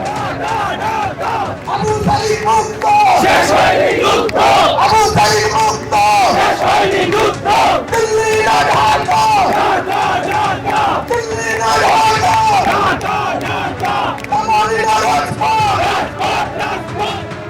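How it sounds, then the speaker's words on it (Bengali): A large crowd at a student rally chants slogans against India in loud, rhythmic unison, a dense roar of many voices that keeps going throughout. "সেখানে ভারতের বিরুদ্ধে স্লোগান উঠল দেখুন"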